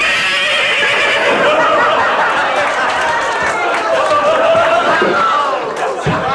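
A horse whinnies at a pub birthday celebration, its neigh rising over a loud, noisy crowd, with people talking throughout.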